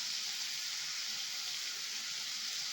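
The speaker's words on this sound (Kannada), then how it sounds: "ಇದೆಲ್ಲ ಚೆನ್ನಾಗಿ ಫ್ರೈ ಮಾಡ್ಕೊಳ್ಳೋಣ ಟಮಾಟೆ ಇದಕ್ಕೆ ಸ್ವಲ್ಪ ಉಪ್ಪು ಹಾಕ್ತಾ ಇದ್ದೀನಿ" Tomatoes frying with salt in a pan give a steady, close sizzle that holds evenly throughout with no talk.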